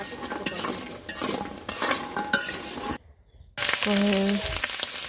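Onion and chili frying in oil in a pan for a fish and pumpkin-wadi curry, with sizzling and scraping stirs, a short silent gap, then louder sizzle with faint background voices and tones.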